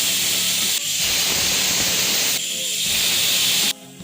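Pressure cooker cooking vanpayar beans, releasing steam in loud sustained hissing bursts with brief dips between them, no voices.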